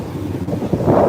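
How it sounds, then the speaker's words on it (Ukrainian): Sea and wind rushing steadily around a yacht sailing toward Santa Margherita island, a close, continuous breezy roar that swells slightly toward the end, with no voices. "вони слухають шум моря"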